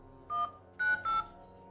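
Three short DTMF dialing tones from an Asus Zenfone Max Pro M1 running a ported ROG UI, heard alone as close, clean beeps with brief gaps between them.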